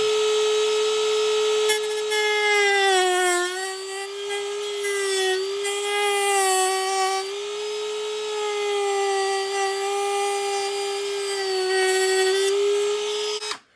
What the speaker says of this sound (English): I grab the Dremel, I grab a nice size cut-off wheel so I can get in there